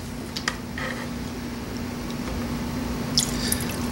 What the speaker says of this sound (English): I am now pouring the lye water into the oils